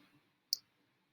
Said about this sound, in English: I click a button on my little pen.